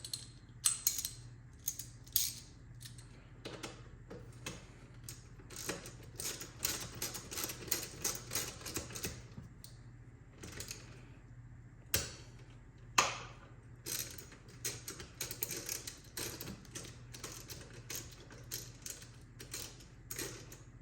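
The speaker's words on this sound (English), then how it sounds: "Goes back in with the Torx bit. Use the right ratchet, it works better." A ratchet driving a Torx bit on the rear brakes of a Coleman 125EX gives rapid, quiet mechanical clicking in uneven bursts, close up and continuous for about twenty seconds with no talking.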